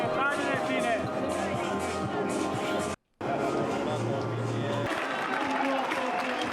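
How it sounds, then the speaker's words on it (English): Crowd cheering and applauding at the finish line of an elite sprint duathlon race, a steady dense roar of claps and voices that cuts out briefly before resuming, with a lower hum and chatter underneath. "The cheers and the applause is there for the winner of the race"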